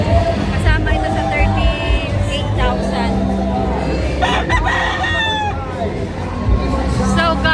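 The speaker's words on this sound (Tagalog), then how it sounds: "Ito yung kanyang mga manok." Roosters crow repeatedly at a game farm holding gamefowl such as Kelso broodstock, several calls overlapping at close and middle distance over a steady background murmur, with people talking nearby.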